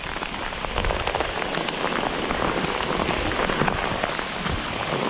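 Hail falls on a surface outdoors while fishing in the Delta, a dense, steady rattle of countless small impacts with sharper individual ticks, filling the whole scene with no voices.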